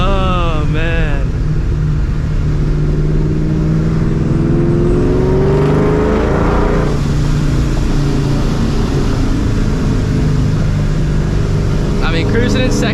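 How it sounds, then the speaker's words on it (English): A supercharged 2004 Mustang GT cruising in second gear around 3,000 rpm with 3.55 gears, a loud near engine drone with a brief rev rising in pitch, while a person talks over it. "I'm literally cruising in second gear in 355s right now at like 3K RPM."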